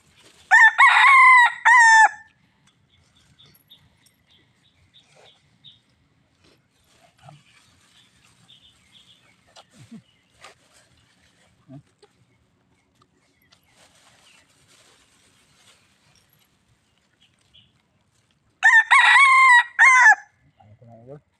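A red junglefowl (labuyo) crows twice in the forest, one loud full call at the start and another near the end, separated by a long stretch of quiet with faint rustling and small clicks.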